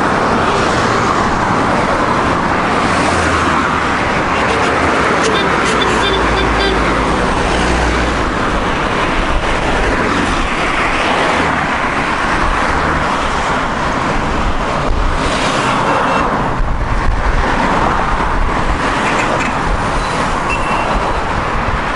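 Busy Cairo street traffic with fast-moving cars streaming past in a dense, continuous roar that stays loud throughout, with passing vehicle swells and a faint voice buried in the noise.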